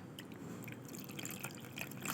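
Water being poured into a cooking pot while preparing milkfish sardines, a steady soft trickling and dripping that swells slightly toward the end, close and fairly quiet with no voices.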